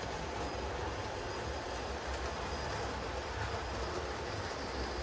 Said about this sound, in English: we have to have at least one train go by